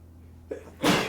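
A single sharp sneeze bursts out close to the listener after a short quiet pause, loud and abrupt, with a faint lead-in breath just before it.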